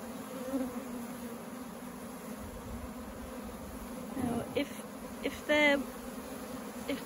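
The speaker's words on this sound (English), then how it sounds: "Very lovely sound." Honeybee swarm being gathered from a tree into a hive, a steady close buzzing drone throughout with brief louder rises near the end, faint voices in the background.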